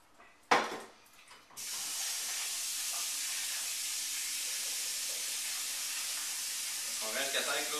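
Running tap water pours steadily over boiled lentils being rinsed in a sieve for a vegetarian pâté, a bright constant hiss after a brief clatter of a pot, with faint shaking of the legumes toward the end.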